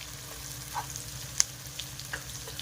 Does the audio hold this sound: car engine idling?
no